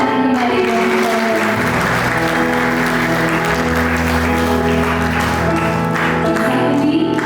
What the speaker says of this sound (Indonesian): Mari kita berikan tepuk tangan kembali buat mempelai.